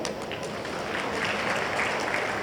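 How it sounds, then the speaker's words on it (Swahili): Steady applause from a large audience at a stadium event in Dar es Salaam, a continuous dense wash of clapping filling the whole stretch without pause. "naomba mimi nipigie makofi"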